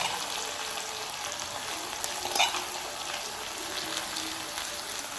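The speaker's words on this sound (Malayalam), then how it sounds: "ഇതുപോലെ എല്ലാം ഞാൻ വറുത്ത് കോരട്ടെ കേട്ടോ" Bengal gram snack deep frying in hot oil, a dense continuous sizzle and bubbling close by, with one brief sharper crackle midway and no talking.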